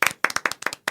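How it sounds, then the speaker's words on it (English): Close, loud bursts of hand clapping from an audience in five short rhythmic clusters with brief gaps between, no talk over it. "Spontaneous round of applause."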